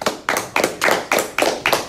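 Seven sharp hand claps in a steady, even rhythm, close and fairly loud, with no voices.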